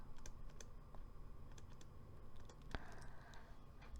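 Light, quiet clicks of a computer mouse and keys while working in accounting software, scattered taps with one sharper click near the end against a faint hum.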